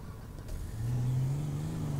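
Car engine in GTA 5 running with a physics mod, a low steady tone that jumps in and rises from mid-clip as it revs, continuous and fairly close.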